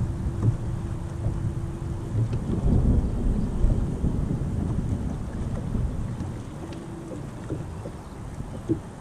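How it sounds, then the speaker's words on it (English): Low thunder from an approaching line of storms rolls over open water during a glide-bait fishing trip, a steady deep rumble swelling around the middle, mixed with wind buffeting the microphone and faint boat noise, with no talking. "we got a line of storms that is starting to move in"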